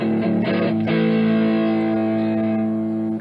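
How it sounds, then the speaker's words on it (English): Overdriven electric guitar on a single-coil pickup, played straight into a VST amp simulator with a cab IR: a few picked notes, then a loud chord that rings and sustains for about three seconds on its own. "these are very, very nice single coil overdriven tones."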